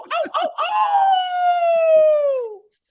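A person's voice imitates a wolf howl, with a couple of short yips rising into one long sustained howl that slowly slides downward, loud and close before stopping.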